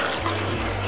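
Water pours steadily into a brewing bin along with sterilising salts, a loud, continuous gushing rush heard up close.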